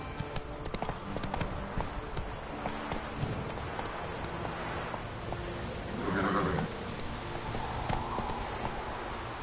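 Roach, a horse in The Witcher 3 on PS4, gallops in a quick run of hoof clip-clops with a brief whinny partway through, all fairly quiet over a low game backdrop.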